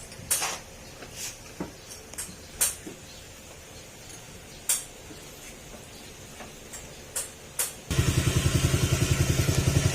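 A Honda Click 125/150 scooter fires up after a gasket repair and settles into a steady, close, rapid idle, preceded by scattered clicks and taps of work on the bike.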